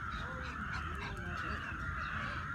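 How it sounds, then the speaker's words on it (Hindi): Birds call in the morning, with harsh crow-like caws repeating over a dense, steady background of chirping, moderately loud and continuous. "इनका सुबह से चिड़ियों की आवाज़ मैं आपको सुनाना चाह रही थी।"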